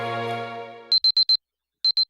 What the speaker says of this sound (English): a sound like an alarm cuts through the silence